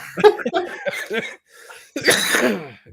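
A person laughs in a quick run of voiced bursts, then after a short gap breaks into a harsh, rasping cough, loud and close.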